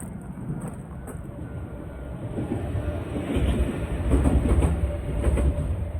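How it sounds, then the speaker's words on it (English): Train rumbling past on the tracks at night in Japan, a steady low roar with rhythmic wheel clatter that swells toward the end as the cars go by close. "Here comes the train."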